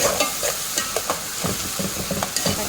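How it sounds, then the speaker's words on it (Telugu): Ginger garlic paste frying in a pan for a spinach soup and keema balls curry, with a soft continuous sizzle broken by regular scraping strokes of a spoon stirring the paste close by. "అల్లం వెల్లుల్లి పేస్ట్ ఇది కూడా బాగా ఫ్రై చేసుకున్నాను"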